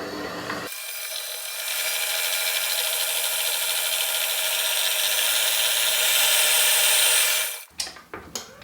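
Electric mixer beating an egg and vanilla into cookie dough for Halloween spider cookies: a steady, loud motor whine runs almost unbroken for about seven seconds, then cuts off into a few brief clattering knocks.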